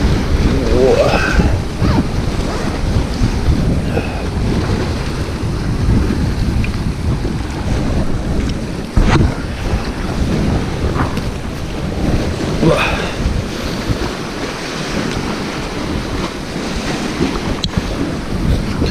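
Sea waves surge onto a rocky shore during light rock fishing: loud, continuous wash and rumble, close by, with gusty wind buffeting the microphone throughout and occasional swells rising and falling.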